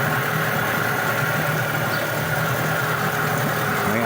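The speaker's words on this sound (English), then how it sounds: "Second pull she started and ran, and there she is running." A Suzuki 8hp two-stroke outboard motor idles steadily after starting, a continuous close mechanical drone with even vibration and no talk over it.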